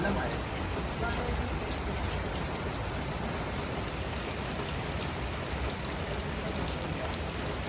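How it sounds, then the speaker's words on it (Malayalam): Heavy rain pours down in Goa, a steady, even hiss of drops striking surfaces that stays constant from start to finish with no breaks. "നല്ല മഴ"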